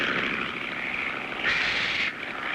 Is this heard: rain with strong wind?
no